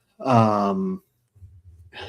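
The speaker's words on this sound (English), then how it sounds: "Excuse me one second while I yawn, because I always yawn" A person on a live podcast lets out one long, voiced yawn that trails off into breathy exhales, close to the microphone.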